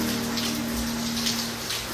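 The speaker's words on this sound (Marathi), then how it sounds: "तर शेवटी फायनली पाऊस लागला" Rain falls steadily in a close, even hiss, with a low electrical hum running underneath.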